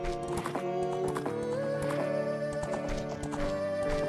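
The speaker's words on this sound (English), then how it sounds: "Come back, you tiny, tiny horse." Epona, the horse in The Legend of Zelda: Ocarina of Time, clip-clops with steady hoofbeats and lets out a neigh over the game's continuous background music, with no voices.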